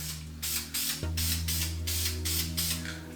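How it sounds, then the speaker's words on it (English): Spray paint can hissing in several short, even bursts onto a motor for a Yamaha Tri-Z YZ250 three-wheeler build, laid down in light coats over a steady mechanical hum in the background. "If you can hear the way I'm spraying this can"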